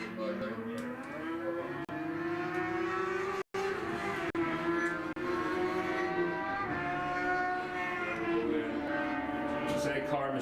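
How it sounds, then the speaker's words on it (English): Racing sidecar engines run on track at an Ulster Superbike Championship round, layered whining tones sliding up and down in pitch continuously, with one brief dropout. "So sidecars are going out on track now."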